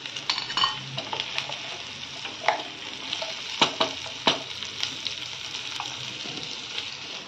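Small onions and garlic fry in a pan with a steady, crisp sizzle, broken by several sharp metallic clinks and scrapes of a utensil against the pan, heard up close with no talking.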